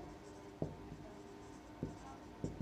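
Pen or chalk writing dimensions during a physics lesson, faint scratching strokes with a few sharper taps spread across a quiet room.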